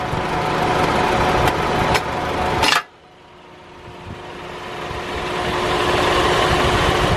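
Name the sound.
Honda Civic A/C compressor clutch magnets engaging, engine idling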